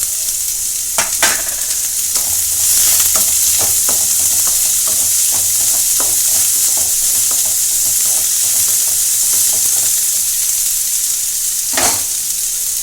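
Steady sizzling and frying of snake gourd in a hot pan, with scattered stirring scrapes and clinks throughout; loud and close, no voices.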